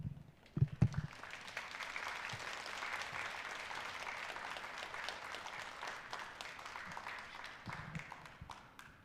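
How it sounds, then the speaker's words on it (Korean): A church congregation at a Korean Methodist Sunday morning service applauds steadily at moderate distance. Dense, even clapping runs throughout, with a few thumps at the start before it fades slightly near the end. "박수해 주시기를 바랍니다"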